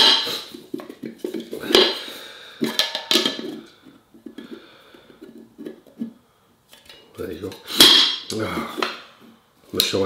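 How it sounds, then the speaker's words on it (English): Metal cookware clanks and rattles as a pot, lid and tongs are handled, sharp bright knocks with a voice talking in between. "It's a cooking pot, tongs, and there's the lid and acts as a frying pan."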